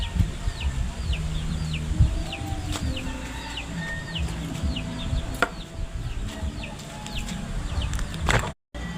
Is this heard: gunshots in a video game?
no